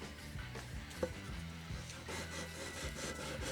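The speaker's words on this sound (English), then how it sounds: "In the meantime, it's back to sanding." Steady rhythmic scraping of sandpaper on a wooden ukulele, back-and-forth strokes repeating close by with a brief sharp knock partway through.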